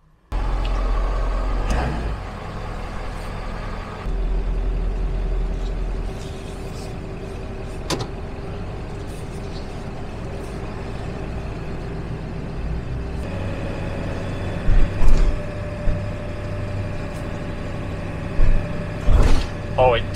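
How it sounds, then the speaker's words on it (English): A truck rig fitted with rear airbags and a front sway bar kit rolls along on a road drive, its engine and road noise droning steadily throughout, with scattered bumps, clunks and rattles breaking in now and then. "This is going to be the first test drive with rear airbags and front sway bar kit."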